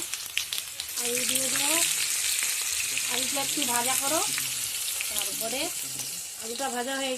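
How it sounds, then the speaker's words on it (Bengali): Potato pieces frying in oil for Bengali-style poha, a loud continuous crackling sizzle with stirring throughout and a voice talking intermittently over it. "আলুটা একটু ভাজা হবে আর কি তারপরে আলু দিয়ে দেবো"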